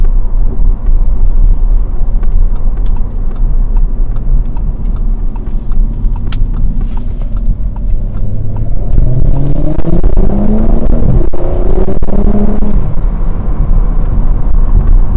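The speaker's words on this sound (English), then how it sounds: "As you can see, the car pulls quite hard." An Audi S5 engine roaring as it accelerates hard in S mode from inside the cabin, loud steady rumble with pitch climbing through quick upshifts.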